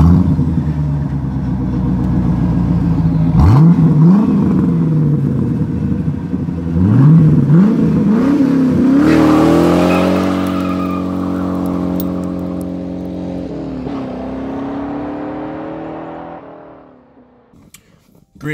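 A Chevrolet Corvette C4 engine cranks and catches, then revs up and down several times with rising and falling roars before settling and cutting off near the end.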